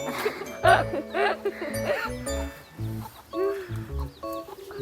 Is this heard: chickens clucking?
yes